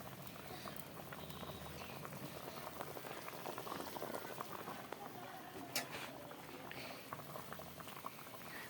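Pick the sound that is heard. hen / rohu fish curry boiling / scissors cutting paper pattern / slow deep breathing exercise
rohu fish curry boiling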